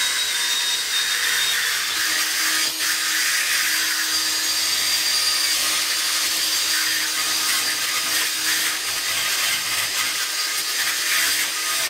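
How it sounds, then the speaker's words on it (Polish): A power drill spins a nylon brush over old, dirty wood caked with plaster bits and shoe grime, a steady unbroken whirring scrub that holds at an even level throughout with no talking. "Użyjemy sobie tej nylonowej i zobaczymy, jak ona wyczyści nam z tego brudu"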